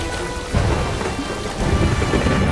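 Heavy rain pours down during a thunderstorm in a film scene, with a dense, loud hiss throughout and deep rolling rumbles of thunder surging up partway through.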